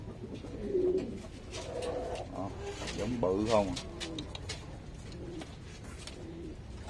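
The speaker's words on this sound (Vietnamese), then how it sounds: "Đây nè bồ câu titan nè, nó bự ghê luôn không." Titan pigeons coo in low, throaty rolling phrases close by, mixed with a person talking in Vietnamese.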